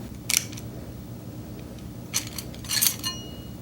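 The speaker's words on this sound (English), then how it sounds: "The noise seems to be coming from the direct clutch drum" Faint metallic scraping and chirping from a Nissan RE4F03B transmission's direct clutch drum, its friction plates rubbing the drum: a short burst early, then two clustered bursts near the end over a low steady hum.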